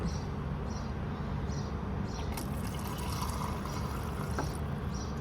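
Cold drinking water runs from a tap at a mosque, a steady soft rush and trickle heard close and alone, with a few faint clinks along the way.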